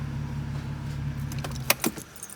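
A BMW E46 drift car engine idles with a steady low hum, then cuts out, followed by a jingle of keys and a few faint clicks.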